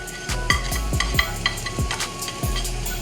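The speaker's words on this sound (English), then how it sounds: "I'm gonna throw my onions first off, right into the pan" Onions tossed into a hot pan with olive oil, a steady sizzle and frying hiss with repeated clinks and scrapes of stirring close by, no talking.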